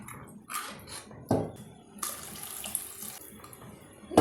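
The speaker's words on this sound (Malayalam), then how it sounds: "ഇനി 2 കപ്പ് ചൂടുവെള്ളം ചേർത്ത് നന്നായി മിക്സ് ചെയ്യുക." Hot water pouring into a pan of fish curry spiced with coriander and Kashmiri chilli powder, a close splashing pour in a few bursts with a longer steady stream, no talking.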